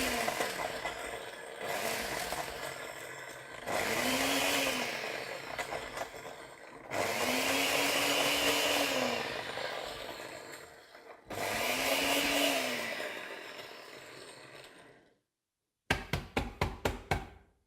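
A liquidizer blending cannabis with solvent runs in three loud whirring bursts separated by short pauses, then a run of quick rhythmic knocks at the end, close with no talk.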